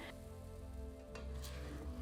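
Vegan pancakes sizzle steadily as they fry in a pan, a close, continuous crackling hiss with a brief clatter partway through and no talking.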